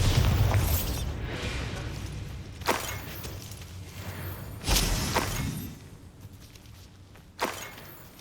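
Bombarda blasting spell explosions in Hogwarts Legacy, several sharp booming bursts spaced a couple of seconds apart over a low rumbling game background, loud and close.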